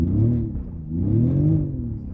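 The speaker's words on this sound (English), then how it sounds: "Now on the inside of the car you can hear this revving sound." A simulated engine revving sound plays from the exterior speakers of a Denza Z electric hypercar, rising and falling in two smooth synthetic swells, loud and close.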